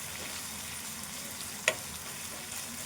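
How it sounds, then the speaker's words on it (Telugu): Chicken pieces with ginger garlic paste frying in a pan for a Telugu chicken curry, steady soft sizzle throughout with one brief clink of a utensil. "తాలింపు అంతా వేగాలి."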